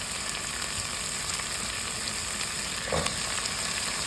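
Carrots and celery hit a hot soup pot of chicken and vegetable soup, raising a steady close sizzle with a brief louder stir of frying near the end.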